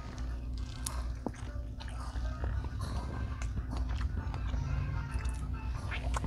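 Close, wet biting and chewing of spiced shrimp from an Indian grill, soft squishy mouth sounds over a low, steady background rumble.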